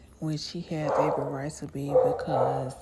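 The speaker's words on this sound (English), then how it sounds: "excuse my dogs" Dogs bark and yip in short bursts indoors, fairly close, under a person speaking steadily throughout.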